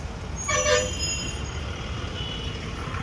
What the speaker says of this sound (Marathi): चलो आगे ये आ गए हम चेन्नई सेंट्रल रेलवे स्टेशन.